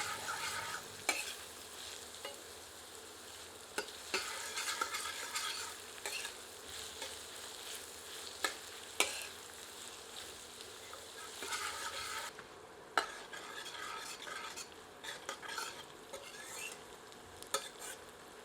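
Onions fry on medium heat in a pan for a quail curry, giving a soft, steady sizzle broken by repeated scraping clicks from stirring, fairly quiet and close.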